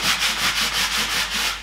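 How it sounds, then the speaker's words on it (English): Sandpaper rubs by hand over painted furniture in quick, rhythmic back-and-forth strokes, about eight close, scratchy passes in a row with nothing else heard. "use some sandpaper and give it a light sanding all over"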